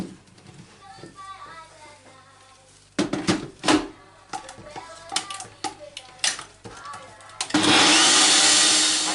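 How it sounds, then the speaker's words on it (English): NutriNinja blender blitzing a chilli mixture for Mexican chicken: a lid clatters and clicks into place, then the motor kicks in with a loud, steady whirring roar, with someone speaking before it starts. "blitz that for about 60 seconds on the NutriNinja"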